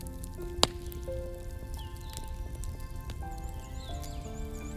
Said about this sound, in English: The drumming of the rain on the rock shelter's roof had slowed to a gentle patter.